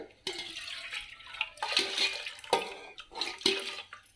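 Water splashes and gushes in a few bursts, poured from a vessel into a pot for cooking horse gram rasam, with brief pauses between pours.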